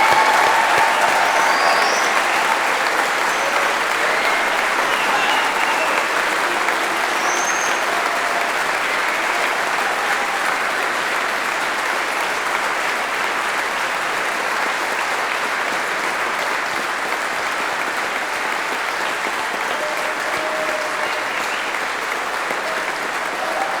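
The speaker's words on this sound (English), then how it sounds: "I'm sure everybody would like to join me in one final round of applause to today's graduates." A university graduation audience gives one final round of applause for the graduates, a dense and steady clapping that carries on for over twenty seconds with no speech on top.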